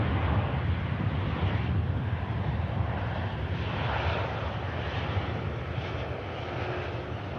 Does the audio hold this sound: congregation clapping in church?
no